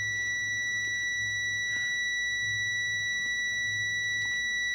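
A steady, continuous electronic multimeter continuity beep holds one high pitch throughout while testing an electrolytic capacitor, with faint background hum and no voices.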